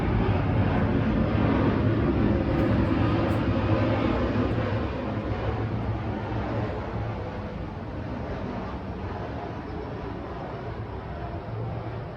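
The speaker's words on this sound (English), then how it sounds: "Waiting for this plane to go by so you can hear me." A broad, steady roar of an airplane passing overhead fills the clip, loud at first and slowly easing off, with no voices.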